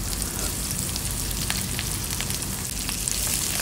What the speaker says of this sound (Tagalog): Mikos-mikos lang natin hanggang mag golden brown din yung luya at saka sibuyas